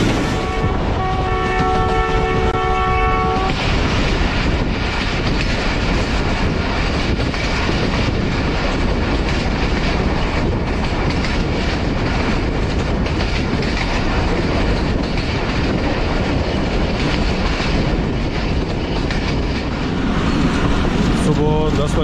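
The 130 Down Thal Express approaches Wisal Junction with a horn blast of several stacked tones at the start, then a loud, continuous rolling roar of wheels and carriages with rhythmic clatter running through to the end.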